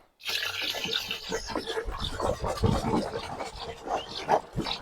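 Diluted spray solution is poured into a garden sprayer tank outdoors, a close, uneven gurgling and splashing of liquid that runs for several seconds after a brief silent start.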